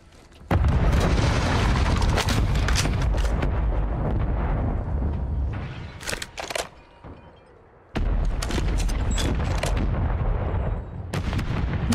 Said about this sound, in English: Mortar strike on me.